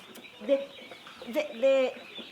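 Chickens on a farm give a few short, close clucks and one longer drawn-out call in a quiet setting.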